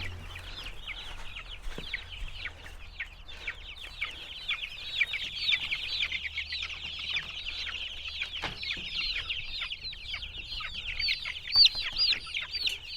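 A large flock of about 101 egg-laying chickens clucks and chatters continuously on pasture, many birds at once, steady and moderately loud with occasional sharper squawks.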